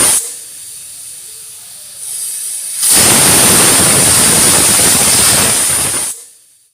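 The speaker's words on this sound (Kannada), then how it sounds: "ಕುಕ್ಕರ್ ಲಿಡ್ಡನ್ನು ಕ್ಲೋಸ್ ಮಾಡಿ 2 ವಿಷಲ್ ನಾವು ಇದನ್ನು ಕೂಗಿಸ್ಬೇಕಾಗತ್ತೆ" A pressure cooker of vegetable pulao with rice vents steam through its whistle, a soft hiss that swells into a loud, sustained roaring blast for about three seconds before cutting off.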